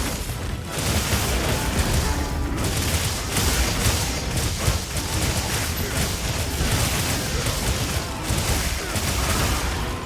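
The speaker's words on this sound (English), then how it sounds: "Now it's a fourth one, and follow-up explosions from that." Follow-up explosions in the Monster Hunter Wilds video game make a dense, loud run of booming blasts and crackling bursts. They go on without a break for ten seconds, with faint game sounds underneath.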